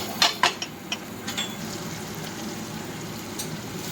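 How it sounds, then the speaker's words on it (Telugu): Onions, green chillies and coriander frying in oil in a pan, a steady soft sizzle with a few sharp clinks of a utensil against the pan at the start. "కొత్తిమీర వేసుకొని దూరగా వేయించుకోవాలి"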